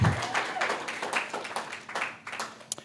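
A small live event audience claps in a loose, moderately loud burst that thins out into scattered claps after a couple of seconds.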